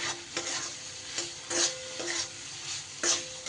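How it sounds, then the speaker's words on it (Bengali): Chana dal stir-fried with spices in a pan for a pumpkin and potato dish, a soft sizzle broken by several sharp scrapes of a spatula against the pan at irregular intervals, close and without talk. "মশলার সাথে ডালটা 1 মিনিটের মতো একটু কষিয়ে নেব"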